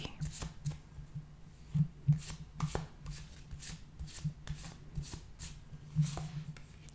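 Tarot cards drawn and laid down during a card reading, giving soft papery slides and several crisp taps and flicks, close and quiet, with faint low murmuring in the background.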